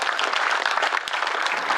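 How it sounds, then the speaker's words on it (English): Audience applause for a retired town crier who has come out of retirement for the Ceremony of the Socks at a framework knitters museum in Wigston; steady, dense clapping from a modest crowd, continuous throughout. "I think a round of applause for Joe"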